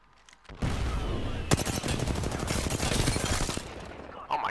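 Rapid automatic gunfire in the Apex Legends battle royale shooter, a dense burst of sharp shots rattling for about three seconds, loud and close, followed by a brief lull and a final crack.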